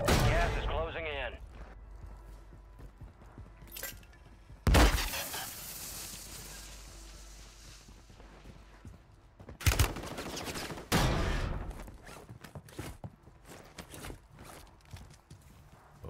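Cor-45 pistol shots in Warzone, several sharp, loud isolated cracks spaced across the clip among quieter game sounds and clattering, with speech present at times.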